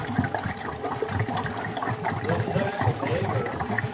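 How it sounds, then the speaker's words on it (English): Pasteurized liquid egg yolk mixed with sugar is poured into a frozen custard machine, producing a continuous gurgling, splashing flow of liquid over a low machine rumble, steady and close. "And I'm going to pour in the egg yolk product."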